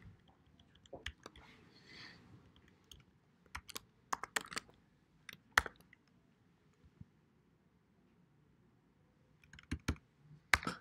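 Computer keyboard typing in a quiet room, irregular clusters of sharp close keystrokes separated by pauses, with faint background rustle.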